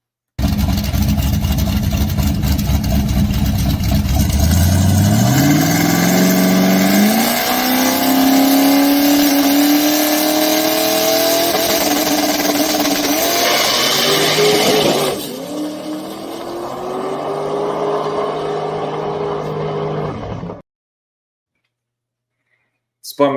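A drag racing car launches hard down the strip, its loud engine climbing steeply in pitch with tire spin and squeal, then the pedal lifts briefly and the engine rises again before cutting off to sudden silence.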